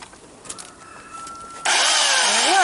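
An electric pole saw starts abruptly after quiet outdoor shuffling with faint birdsong and settles into a loud, steady motor whine with pitch wobbles, running continuously to the end.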